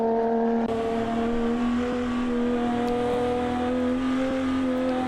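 A vintage race car engine drones at full throttle around the Brooklands circuit in Assetto Corsa, a steady, loud, buzzing tone held for five seconds with only slight pitch shifts and no voices over it.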